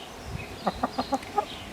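Laying hens on a farm cluck nearby in a short run of about five rhythmic, evenly spaced calls against a quiet background.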